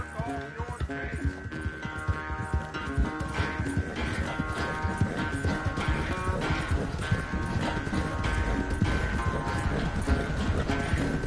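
Horse hooves clip-clop in a steady rhythm in the Red Dead Redemption 2 video game, close and continuous, layered over a tonal musical background.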